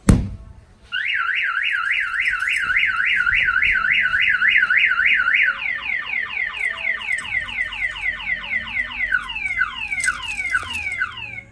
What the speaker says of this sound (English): if the alarm fires off, the main thing this particular customer wanted this is for the alert on the phone